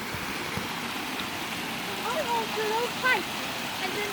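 Steady broadband rush of the Lost River in Connecticut flowing down like a waterfall, continuous and fairly close, with a voice and faint chirps over the water.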